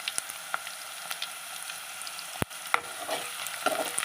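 Onions sizzling gently in a pan for an egg curry, a steady faint fry with a few soft stirring clicks and one sharp knock midway, no voices.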